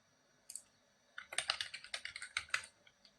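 Quick bursts of close, crisp keystrokes on a computer keyboard, one short tap and then a rapid run of a dozen or so clicks in a quiet room.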